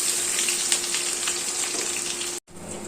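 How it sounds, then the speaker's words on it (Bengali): Onions frying in oil for a paneer-egg biryani hiss with a constant, close sizzle and light crackle, which cuts out abruptly for a moment before resuming. "এবার আগে আমি পেঁয়াজটা ভেজে নিই"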